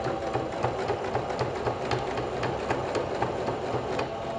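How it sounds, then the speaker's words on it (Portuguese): Sewing machine stitching bias binding with light thread, a steady close rapid mechanical chatter with even rhythmic ticks and a low motor hum throughout, with no talk. "eu tô costurando aqui com uma linha clara para vocês poderem ver bem direitinho"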